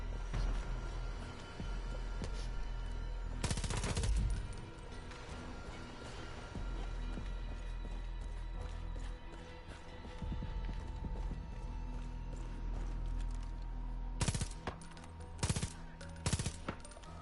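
Scattered bursts of ARC gun fire in Far Cry 5, a few sharp clustered volleys standing out over a steady low game background, with other shots faint and distant between them.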